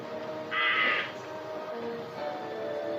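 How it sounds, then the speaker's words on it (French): A crow caws in a short harsh burst, clear and fairly close, during a Sunday-school retelling of Noah's ark releasing the raven, with quiet background tones before and after. "Le corbeau."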